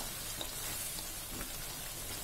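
Long beans stir-frying and boiling in a pan give off a steady, even sizzle and bubbling hiss that runs close and continuous throughout, with no voices.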